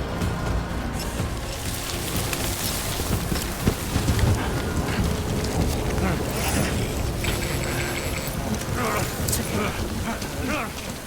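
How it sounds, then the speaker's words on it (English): In the video game Death Stranding, rain falls steadily, a dense continuous patter mixed with clicking mechanical game noises and other layered effects. "The rain saved us."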